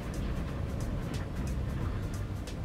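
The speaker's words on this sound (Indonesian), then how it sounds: "yang gue pengen denger tuh road noise-nya kalau di jalan konblok itu gimana" Inside a 2019 Honda BR-V Prestige automatic on a paving block road, a steady low cabin rumble of tyre noise runs continuously, with faint repeated bumps as the tyres cross the blocks.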